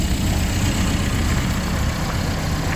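A demolition derby car being built for speedway racing idles steadily nearby, its engine giving a loud, rough, continuous rumble with no talk over it.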